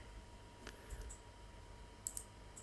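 A computer mouse clicks OK in network-planning software, a few faint, sharp clicks in quiet room tone, close and alone.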